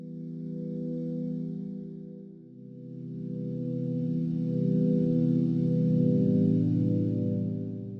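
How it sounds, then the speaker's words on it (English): A sustained Korg M1 synth pad drones warmly, swelling and shifting as a chord changes, with a smeared, echoing shimmer from a stereo delay effect. "maybe we just do like a nice stereo delay"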